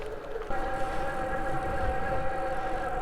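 A DIY electric bike conversion hub motor whines steadily while climbing a steep hill, a sustained tonal hum with road and wind rumble underneath, no speech.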